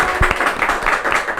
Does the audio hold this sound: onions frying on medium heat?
no